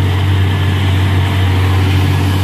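A Hino truck overtakes on a hill road, its heavy diesel engine a close, loud, steady low drone with a strong hum and no break, nobody talking.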